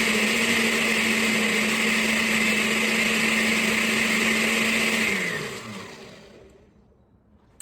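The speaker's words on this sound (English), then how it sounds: "I'm just gonna go ahead and put that in the blender" A blender pureeing tomatoes whirs loudly at a steady high pitch for about five seconds, then winds down and stops.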